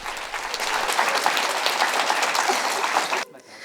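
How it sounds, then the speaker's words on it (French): Dense, sustained applause from a theatre audience for a stage troupe taking its bows, loud and even for about three seconds before cutting off abruptly into quieter room sound. "Applaudissements, saluts de la troupe et quelques explications."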